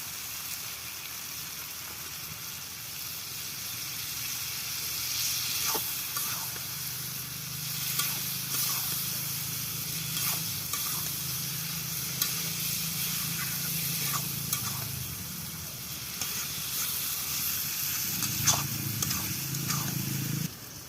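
Chicken curry, cooked without ginger, onion or garlic, sizzles steadily in hot oil after a ground paste of cumin, chilli and coriander goes in, a continuous close hiss with occasional pops and scraping clicks, a voice murmuring briefly beneath.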